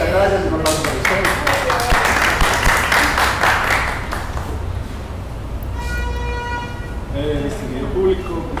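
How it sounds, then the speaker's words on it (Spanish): An audience at a documentary event breaks into a burst of clapping that swells and then thins out, with scattered cheers and voices mixing in as it fades. "Muchas gracias, un aplauso para ustedes."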